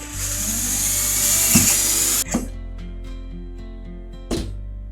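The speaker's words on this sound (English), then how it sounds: "This is taking a very long time to drill because I want to be real gentle." A power drill whines steadily for a couple of seconds, boring slowly and gently through wood, then cuts off, followed by a few soft knocks and clunks in a quieter room.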